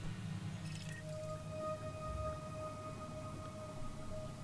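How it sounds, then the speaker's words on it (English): Elite Dangerous planet scan tone for a high metal content planet, a quiet synthetic drone with a sustained thin whine and low, soft bubbling texture underneath, steady throughout. "This one has like a bubbling."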